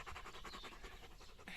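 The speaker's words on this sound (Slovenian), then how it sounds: "tale kuža je prišel z nami do kemperja." A large dog pants hard in hot weather beside a camper, with quick, steady, close breaths that continue without a break.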